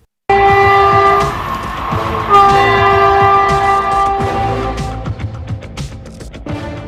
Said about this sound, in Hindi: रेलवे ट्रैक पर तेज रफ्तार ट्रेन दौड़ी चली आ रही है।